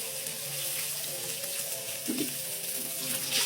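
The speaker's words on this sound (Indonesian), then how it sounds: "sekarang kita tambahkan air. Agak banyak sedikit biar ada kuahnya." Water poured into a hot cooking pan on a home stove hisses and sizzles in a steady, close rush, with a faint splashing swell partway through and no talking.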